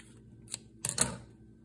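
Scissors cutting leather for a pen case, a few short crisp snips close up in a quiet room.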